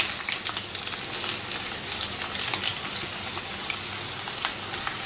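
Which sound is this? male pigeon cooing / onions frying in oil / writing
onions frying in oil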